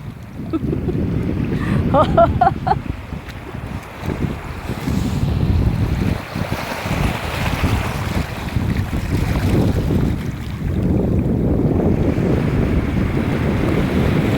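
Steady wind roars against the microphone over the open sea at low tide, with the wash of waves around a boat, continuous and loud throughout, a voice speaking briefly over it.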